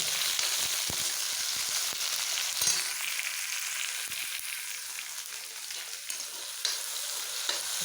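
Onions and tomatoes frying in a pan for pasta sauce, a steady hiss of sizzling with occasional faint clicks and scrapes of a utensil, close and even throughout.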